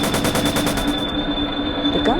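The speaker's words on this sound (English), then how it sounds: "Strange sounds echoed as the machine gun bullets ricocheted off the armor plating of the APC." Rapid machine gun fire from the video game Planetarian, bullets ricocheting off the armor plating of an APC, a loud dense rattling burst that carries on steadily under a constant whine.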